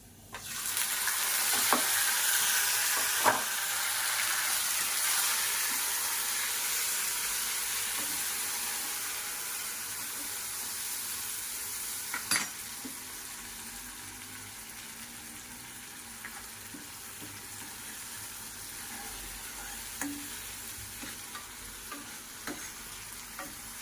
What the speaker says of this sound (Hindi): प्याज भी फ्राई हो गई है अच्छे से। अब मैं इनमें जल्दी से डाल देती हूँ टमाटर।